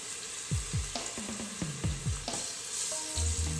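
Meat browns in a hot frying pan for Jamaican stew peas, a steady close sizzle broken by scraping stirs and utensil clacks against the pan.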